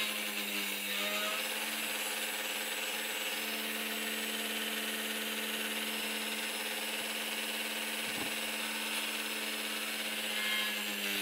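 A power drill whines steadily and close up at a high pitch, drilling 1.2 millimetre rivet holes in metal mudguards for a one-sixth scale Tiger 1 tank model, with one brief dip in the motor near the end. No one speaks.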